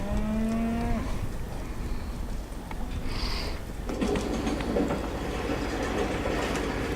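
A black Angus cow gives a low moo at the start, then a noisy outdoor background follows with rumbling and clatter that sounds like machinery or a passing train.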